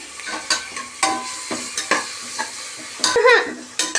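Ginger, garlic, onion and green chili paste sautéing in a pan, a sizzling hiss punctuated by repeated scraping stirs roughly every half second, close and loud, with no voices.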